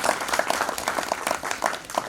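An audience applauds at the Tiranga award ceremony at Sahkarita Bhawan in Lucknow, giving close, steady clapping with many hands at a fairly even rhythm for a couple of seconds.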